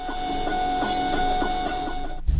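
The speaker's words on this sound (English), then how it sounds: "A 3D printer at work." A 3D printer runs with a steady whirring motor drone and faint stepper tones that pulse roughly every half second, ending with a brief cut into a louder low rumble.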